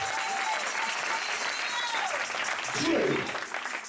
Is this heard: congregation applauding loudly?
yes